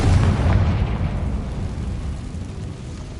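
A Confringo blasting spell in Hogwarts Legacy goes off as a heavy, booming explosion that hits at the start and rumbles down into a lingering low roar.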